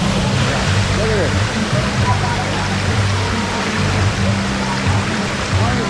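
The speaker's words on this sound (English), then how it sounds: "Beautiful waterfall." Twin waterfalls in Laguna pour steadily from high above, a constant loud broadband rush close by, with people talking over it.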